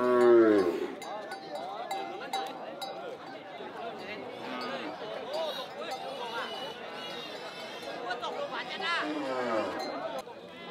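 Cattle low at a Northwest Vietnam highland market, a long moo opening over constant crowd chatter, with clinking and cowbell-like tinkles and another moo near the end.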